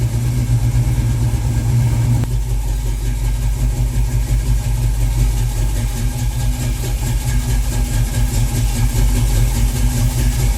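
A 1968 Ford Mustang engine idles steadily during a carburettor adjustment, a loud, close, even low rumble with a regular pulsing beat throughout and no voices.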